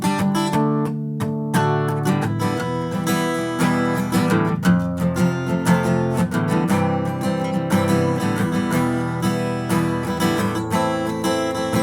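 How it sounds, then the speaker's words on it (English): Acoustic guitar playing the bridge of a song, steady strummed chords ringing close and full without any singing or talk. "and then there's a bridge that sounds like this."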